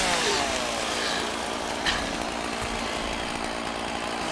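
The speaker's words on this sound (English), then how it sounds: "he pulled out a chainsaw" A chainsaw runs at a steady, loud buzzing roar for several seconds, the engine droning continuously with a brief surge near the middle and no voices over it.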